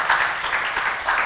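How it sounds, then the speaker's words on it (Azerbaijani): A studio audience at a television talk show breaks into applause, a dense, continuous wash of many hands clapping at close range, loud and steady with faint rhythmic peaks. "Alqışla."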